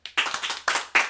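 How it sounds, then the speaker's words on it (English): An audience at a wrestling showcase claps in a few loose, close bursts, short and uneven rather than a sustained ovation. "Let's give a big round of applause to West Baguette"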